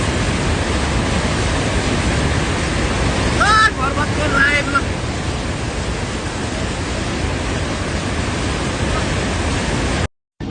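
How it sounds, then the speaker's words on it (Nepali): A flooded Trishuli river roars in a steady, dense wash of rushing water, loud and close with wind buffeting the microphone throughout, cutting out abruptly near the end. "कत्रो बाढी आएको यार"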